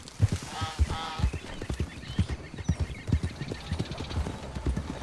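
Horse hooves clip-clop in a steady, fairly loud rhythm through a Red Dead Redemption 2 game scene, with a brief whinny near the start and faint voice-like sounds in the background.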